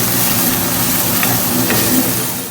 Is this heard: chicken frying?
yes